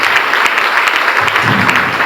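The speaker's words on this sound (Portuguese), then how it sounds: "Dá um aplauso a Ele" Congregation at a church conference in Paraná applauding, a dense sustained wash of clapping from many hands filling the room.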